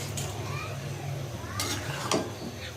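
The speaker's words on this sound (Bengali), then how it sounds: "ভালো করে লাড়াচাড়া দিয়ে নেব" Potatoes and eggplant being stirred in a cooking pot, with a few short scraping clatters of a utensil against the pot over a low kitchen background and faint distant voices.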